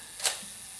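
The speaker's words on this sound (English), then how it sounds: "And then the little mechanism of the self-timer starts working, and it takes about, I think, 10 seconds before it fires." A single sharp mechanical click from a Zenith EM film camera's shutter firing after its self-timer, brief and close, over a quiet background.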